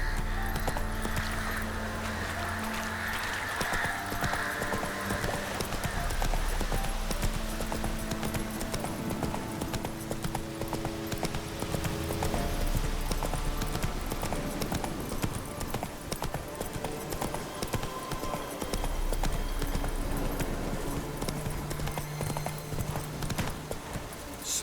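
Roach the horse galloping in The Witcher 3 video game, a steady, fast clip-clop of hooves running throughout at moderate level beneath sustained game music, with no talking.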